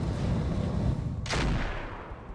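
Heavy weapons fire in the mech game Roguetech booms out over a constant low rumble of battle, with one sharp, loud shot cracking midway and fading into rolling noise.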